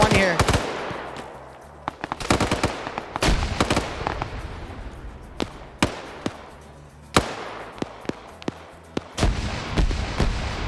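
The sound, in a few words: machine gun fire in a video game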